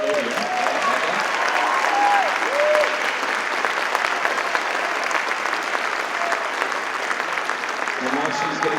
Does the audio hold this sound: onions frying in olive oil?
no